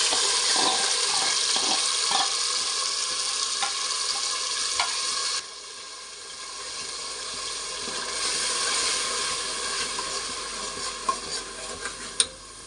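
A ground paste of onion, cinnamon, clove and cumin fries in a pan with a steady loud sizzle, broken by stirring scrapes and a brief dip in intensity midway, with no voices.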